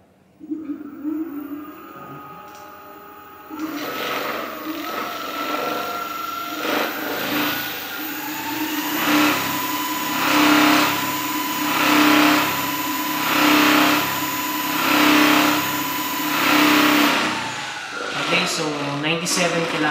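A Blade X Pro electric scooter in gear 3 turbo freewheels at maximum speed, its motor whine rising steadily and holding a high pitch with a pulsing rhythm, close by, then cutting off near the end.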